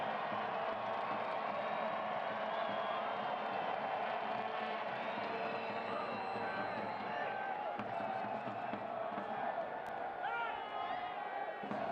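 A soccer stadium crowd roars and cheers steadily after the public address announcer urges them on, a broad distant wall of voices lasting throughout while a commentator talks over it.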